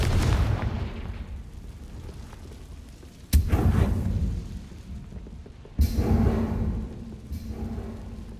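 Confringo blasting spells explode in Hogwarts Legacy as a series of heavy booms, one at the start and two more later, each followed by a long rumbling decay that fills the clip.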